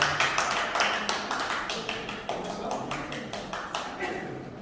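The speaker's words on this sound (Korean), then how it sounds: "다시 한번 큰 박수로 여러분 맞이해 주십시오." Audience applause at a wine-class dance party in an urban venue, brisk rhythmic clapping from a modest crowd, moderately loud and sustained throughout.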